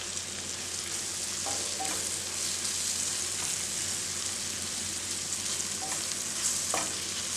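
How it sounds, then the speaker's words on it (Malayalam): Spices and garam masala are stirred in a sizzling frying pan while making chicken tikka masala, with steady frying hiss underneath and occasional scraping strokes of the spoon, close and continuous with no talking. "നന്നായി ഇളക്കി കൊടുക്കുക."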